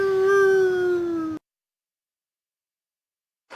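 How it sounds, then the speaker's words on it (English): A single sustained howl on the winds, a loud, close, slightly falling tonal wail lasting over a second, then an abrupt cut to silence with a brief sound returning at the very end. "You hear howl on the winds."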